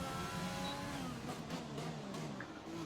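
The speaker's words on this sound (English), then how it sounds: "the wonderful sound of that purring cat car coming out of the pit lane" An F1 race car engine in the F1 2020 video game revs and pulls away from the pit lane, rising in pitch as it accelerates, heard at moderate distance over a steady background hum.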